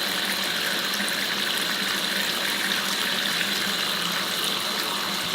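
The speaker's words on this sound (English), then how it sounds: "So I'll just keep putting it under the water, swirling it around in my hand, and squeezing out the brush." Tap water runs steadily over a paint brush being rinsed in a sink, a continuous close hiss of flowing water with no talk.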